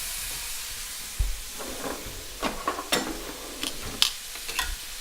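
Pieces of tri-tip hit a hot pan and flash-cook, giving a steady faint hiss with scattered pops and crackles, a soft thump as meat lands, and no talking.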